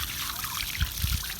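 Water trickles and splashes while rinsing off a part from an AOD automatic transmission on a 1990 Ford Mustang 5.0. The flow is close and continuous, with a few heavier splashy bursts near the end and no speech.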